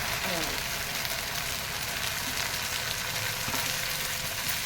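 A cabbage Manchurian mixture, made with no sauces, fries in a pan as tomato goes in. A loud, continuous, close sizzle crackles throughout, and a voice speaks faintly in the background.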